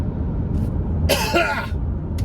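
A single rough throat clearing, brief and close, rises over a steady low background rumble inside a van.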